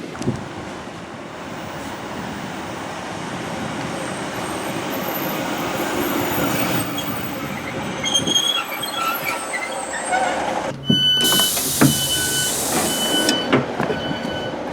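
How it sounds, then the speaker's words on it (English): A ScotRail train on the East Kilbride Line pulls away from a station, with steady rumbling rail noise that swells, then rising wheel squeal and a bright high-pitched screech near the end. "we shall be leaving this station now on the 12:03 ScotRail service to Clarkston"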